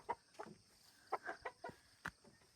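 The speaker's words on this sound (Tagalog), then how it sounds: "Mga manok na hybrid ba?" Hybrid chickens in a backyard coop give a run of short, separate clucks and squawks at moderate distance, spaced unevenly with no voices over them.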